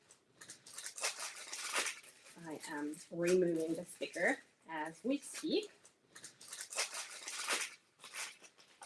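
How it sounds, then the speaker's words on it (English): Crackly packaging being handled as a sticker is peeled off, irregular crinkles and rustles running under a woman's close speech throughout. "sorry for the crinkling. I am removing the sticker as we speak."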